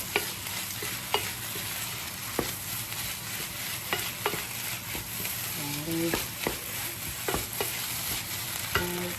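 Egg and rice being stirred through pork belly fried rice in a hot pan, with a steady sizzle and repeated scraping utensil strokes. A brief voice shows up faintly now and then.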